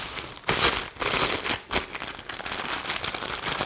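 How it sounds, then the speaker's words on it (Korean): Plastic sheeting crinkles and rustles as it is laid beneath floral foam in a low basket for a clematis arrangement, close and continuous with sharper crackling bursts. "저는 플로럴 폼을 좀 더 높게 위로 올리기 위해서 밑에 비닐을 좀 깔아줄 거예요"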